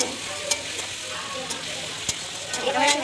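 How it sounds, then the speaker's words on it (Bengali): Meat sizzles and is stirred in a pan of fried onion, tomato paste, sugar and spices for a Bengali mangsho kasha, a steady close crackle with a few sharp scrapes, while someone briefly speaks. "মাংসটা দিয়ে এবার কষিয়ে নিচ্ছি আমি।"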